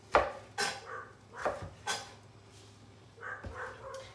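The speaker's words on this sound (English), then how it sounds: "that's my dog barking in the background." A dog barks several times in short separate bursts somewhere in a home kitchen, moderately distant, with faint clinks of dishes and cutlery between the barks.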